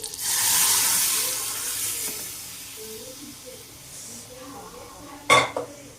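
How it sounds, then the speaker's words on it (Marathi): Hot oil hisses and sizzles loudly as spices hit the pan, then settles to a softer crackle, ending with a sharp clink of metal utensils. "तर मस्त त्याला फोडणी अशी द्यायची।"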